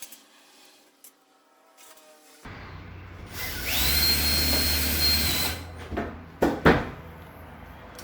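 A nail gun fires into PVC decorative wall panels while a room partition is fitted, giving a loud mechanical whir and rush in the middle with sharp clacks and bangs near the end, all close by and with no talk.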